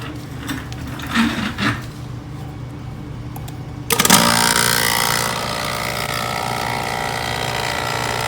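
After a few faint clicks and handling sounds, a TruBlu evacuation kit vacuum pump switches on at about four seconds and settles into a loud, steady mechanical drone with a rattling hiss that continues to the end.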